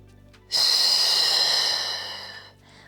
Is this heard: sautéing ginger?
no